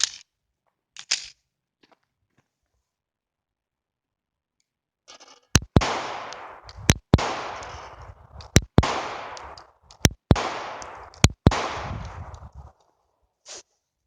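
Sharp, loud shots from a Taurus PT111 G2 pistol firing DRT 85 grain ammunition, five evenly spaced reports each trailed by a ringing echo, with faint handling clicks before and after.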